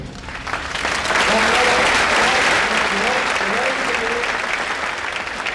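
Audience applause at a benefit gala, a dense, loud wash of clapping that swells in over the first second and holds steady, with a voice talking faintly underneath.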